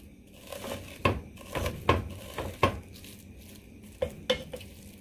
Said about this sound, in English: I have some ground beef in here. I'm just going to cook it up until it's all brown.